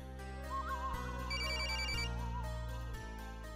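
A mobile phone rings with an incoming call in a Marathi TV serial scene, its electronic melodic ringtone repeating in short cycles, loud and close, with a low steady hum beneath and no voices.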